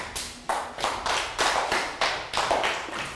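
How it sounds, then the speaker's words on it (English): A Year 3 maths class gives a round of applause: loud, close, separate clap-like bursts, about eight in a row at a brisk uneven rhythm, with no speech over them. "Round of applause for down."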